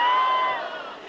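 A convention audience cheers and roars loudly in a short swell that peaks at once and then gradually fades into general crowd noise.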